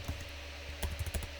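Keys on a computer keyboard are tapped in a quick, faint burst of several soft clicks, then a short pause, then more taps close by in a quiet room.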